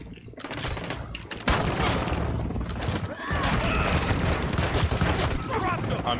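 Gunfire in a first-person shooter video game, rapid bursts of shots and automatic fire in dense, loud volleys that run almost continuously, with battle noise around them.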